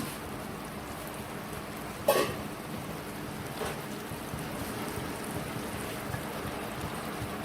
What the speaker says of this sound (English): Now I'll add the water.